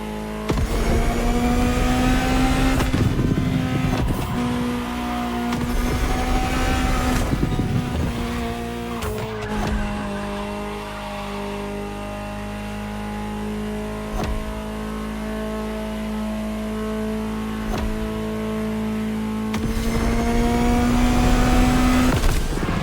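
High-revving Ferrari supercar engine in The Crew Motorfest roaring loudly, with gear shifts and rising and falling pitch, then settling into a steady drone before revving up again.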